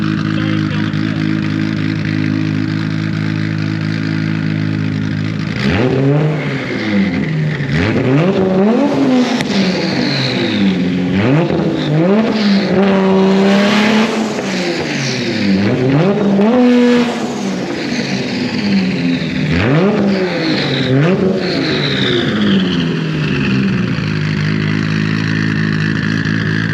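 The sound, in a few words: swapped 2JZ car engine revving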